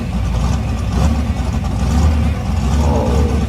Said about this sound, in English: this burnout on the hood